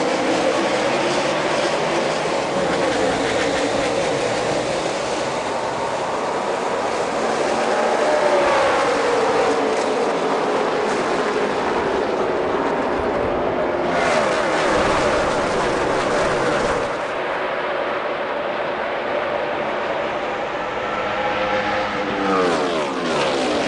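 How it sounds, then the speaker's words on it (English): NASCAR Sprint Cup stock cars racing at Charlotte Motor Speedway, a dense continuous roar of many engines sweeping past with rising and falling pitch as the pack streaks by, loud and close throughout with no talk. "Listen to those engines scream off into turn 3."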